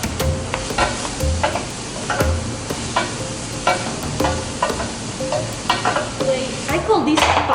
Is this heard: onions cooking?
yes